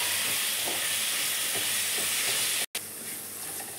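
Spices and garam masala sizzle in a hot pan for a spicy chicken masala fry, a steady close hiss with light stirring scrapes and one short break near the end.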